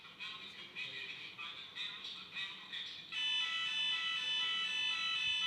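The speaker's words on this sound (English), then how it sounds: "Can you confirm if there's an official fire alarm?" A fire alarm sounds in a room, first as rapid pulsing beeps, then as a loud continuous electronic tone that holds steady to the end.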